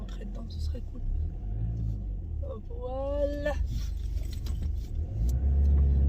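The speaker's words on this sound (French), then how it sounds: "Je déteste me garer en marche avant." A car rolls slowly forward into a parking space, its engine a low steady rumble that swells toward the end as it creeps in, with someone speaking briefly over it.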